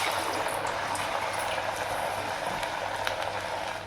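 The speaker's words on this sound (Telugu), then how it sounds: "ఇప్పుడు ఆయిల్లో ఫ్రై చేసుకుందాం." Alasandala vadalu, crunchy black-eyed pea fritters, frying in hot oil over a medium flame: a steady, loud bubbling sizzle with a dense, even hiss and occasional sharper pops, unbroken for the whole stretch with no voices.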